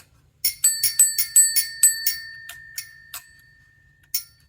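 A 1980s home telephone's ringer bell rings in a fast series of bright metallic strikes that die away, then a few sparser, softer rings and one last strike, close and clear.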